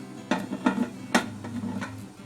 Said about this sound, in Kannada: ಕುಕ್ಕರ್ನ ಮುಚ್ಕೊಳ್ಳೋಣ ಆದರೆ ವಿಸಿಲ್ ಹಾಕೋದಿಲ್ಲ ನಾನು